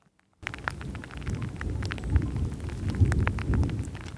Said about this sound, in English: You can probably hear the thunder as well.